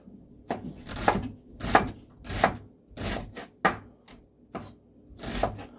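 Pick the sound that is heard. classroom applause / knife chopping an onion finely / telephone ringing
knife chopping an onion finely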